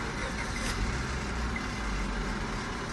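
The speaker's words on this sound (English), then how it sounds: "the vehicle starts" A 2003 Honda Civic engine runs with a steady, close mechanical hum and rumble that holds evenly throughout.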